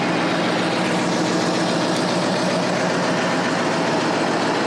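A 1974 Pontiac Firebird Trans Am Super Duty 455 V8 idles continuously at close range, a steady, rumbling engine, loud and even with no voices.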